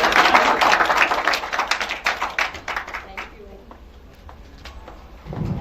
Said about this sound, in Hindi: तालियां दोबारा